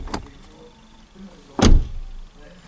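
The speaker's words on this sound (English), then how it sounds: "I'm going to open and close the door a few times" A 2023 Ford Ranger Raptor door is handled: a light click of the latch opening, then a solid, heavy slam as the door shuts, close and loud with a brief low rumble after.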